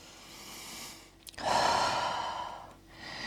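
Slow breathing during a wide-legged forward fold yoga pose, a soft exhale building into a longer, louder breath out, then a quieter inhale, close and alone.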